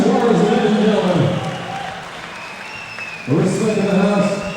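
Crowd applause after an MMA fight swells loudly, dips for a moment, then rises again, with an announcer's voice over it.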